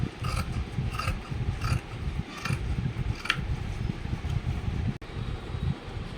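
Scissors cutting blouse fabric crosswise to trim frayed edges, a steady rough rasping and rubbing with periodic soft snips, close up over a low continuous background rumble, no voices.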